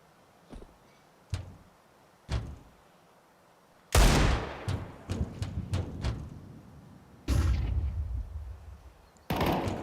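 Pistol gunfire in a Counter-Strike esports match at IEM Melbourne 2025: several sharp isolated shots early, then bursts of rapid cracking shots clustered together, fairly loud against a quiet background.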